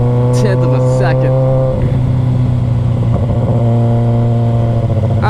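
A 2010 Kawasaki Ninja ZX-14R motorcycle revs loud and close, its engine tone climbing in steady harmonic sweeps as it accelerates, then holding a strong throaty drone through to the end.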